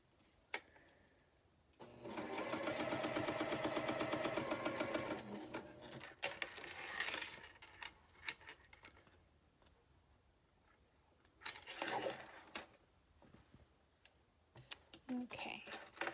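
A heavy Juki sewing machine stitches quilt pieces in a rapid, even mechanical run of about three seconds, then stops and starts again in shorter bursts, with soft handling noises between runs.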